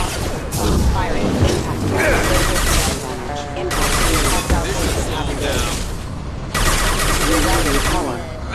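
Sustained bursts of sci-fi weapon gunfire and booming impacts in a Mass Effect 2 battle, rapid rattling volleys that pause briefly and resume, loud and close, layered with clanking mechanisms.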